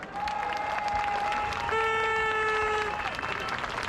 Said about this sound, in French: Armelle Leroy, que je vous prie d'applaudir